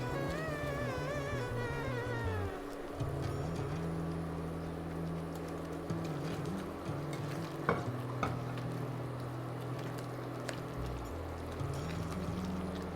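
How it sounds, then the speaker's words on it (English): Suji being stirred quickly into hot sugar syrup for rava kesari: a continuous low bubbling and stirring texture, fairly faint, with occasional light knocks of the utensil against the pan. "So can you add the suji now? Now it's important to mix very quick"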